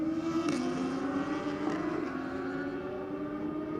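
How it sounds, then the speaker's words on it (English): A drag racing motorcycle with an auto shifter accelerates hard, its engine note climbing steadily with brief clipped breaks at each gear change, loud and near, then trailing off as it pulls away. "auto shifter on the bike by the sound of it."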